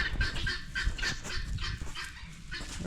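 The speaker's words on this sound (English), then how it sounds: "And then there's the guinea hen screaming at me." A guinea hen screams in a farmyard, harsh repeated squawking calls in quick bursts, fairly close and loud, alone without talk.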